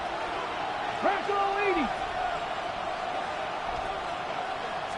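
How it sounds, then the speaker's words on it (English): Football stadium crowd roaring steadily before a third-down play, a dense sustained wall of cheering with a commentator talking over it. "This crowd into it now as we get to 3rd down."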